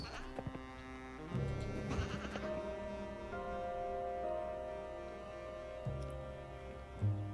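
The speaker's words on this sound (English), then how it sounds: "The sheep are naked now." Sheep bleat several times in the video game Genesis Noir, with clear, close calls rising over a steady backdrop of sustained tones.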